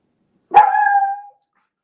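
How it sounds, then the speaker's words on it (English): Dog gives a single loud, close bark that trails into a short drawn-out tone, alone against silence during an online call. "And there's my dog."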